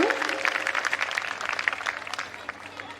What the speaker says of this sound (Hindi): एक बार फिर से जोरदार शोरदार तालियां हो जाए दोस्तों।